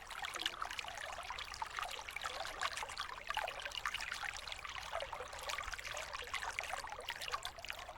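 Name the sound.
water trickling in cascade through hollowed tree trunks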